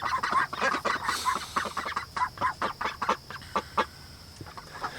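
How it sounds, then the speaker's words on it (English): A flock of Khaki Campbell ducks, let out in the morning, quacks close by in quick, uneven bursts. The calls are busy at first, then thin out and grow quieter toward the end. "let's let the ducks out, see how they're doing this morning"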